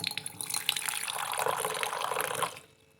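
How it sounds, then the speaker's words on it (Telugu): Water pours steadily into a glass for about two and a half seconds, a close, bright splashing rush that stops abruptly, leaving near silence. "ఒక గ్లాస్లో కొన్ని వాటర్ తీసుకుందాం."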